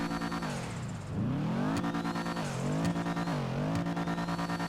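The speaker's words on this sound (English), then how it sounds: "let's give it some gas and see how she sounds" Karin Woodlander HSW engine in GTA Online revving repeatedly, a loud, close buzzing engine note that climbs, drops back and climbs again in several surges through gear changes.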